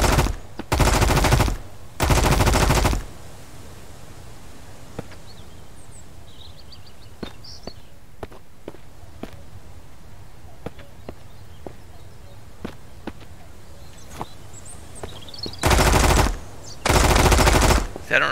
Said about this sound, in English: I don't know if he's shooting at that building or he's shooting from that building.